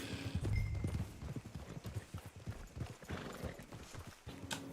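Horse hooves clip-clop in a steady, fairly close rhythm in Mafia: Remastered, with no talk over them.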